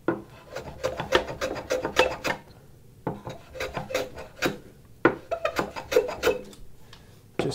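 A hand plane cuts a chamfer along the edge of a wooden saw handle in rhythmic bursts of close, rasping shaving strokes, grouped in short runs with brief pauses between them.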